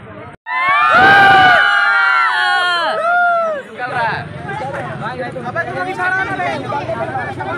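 A large crowd at a fan meetup in Ranchi's Oxygen Park cheers and shouts loudly together, with children's voices in the mix. It settles into a busy hubbub of overlapping chatter.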